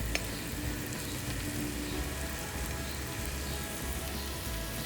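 Chopped garlic, julienned ginger and sliced green chilli frying in a pan, a dense steady sizzle and crackle of hot oil heard up close without any talk.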